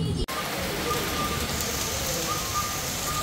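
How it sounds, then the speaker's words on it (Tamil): Heavy monsoon rain pours outside a ground-floor balcony in Goa, a dense, steady hiss of falling water that holds evenly throughout, preceded by a brief click at the very start. "மழை பெஞ்சிட்ருக்கு செம்மையாக."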